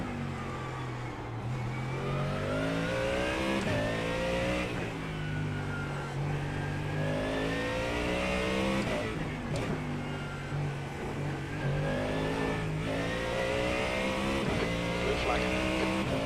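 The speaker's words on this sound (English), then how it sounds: "there's a faster class car approaching" GT3 race cars in iRacing roar continuously, engine pitch repeatedly rising through gears and dropping on shifts, loud and close while a faster class car approaches, with a spotter's voice speaking over the engine noise.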